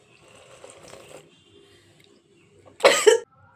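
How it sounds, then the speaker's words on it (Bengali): A woman chokes while drinking tea and lets out one short, harsh double cough, loud and close, after a few seconds of faint clinking and quiet household sounds. "চা খাওয়ার সময় এত জোরে বিষুম লেগেছে"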